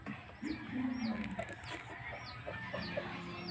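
Chickens cluck and squawk nearby, several short calls scattered over a low background hum.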